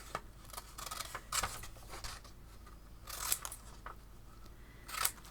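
Scissors cut apart paper embroidery transfer motifs with several close snips and crisp crunching strokes, arriving in uneven bursts in a quiet room.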